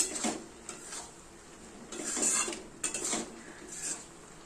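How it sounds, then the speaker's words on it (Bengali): Ghugni is stir-fried with spices in a pan, with a spatula scraping and clinking against the metal in short, uneven strokes, close and fairly quiet. "এবার এই ঘুগনিটাকে ভালো করে কষাবো"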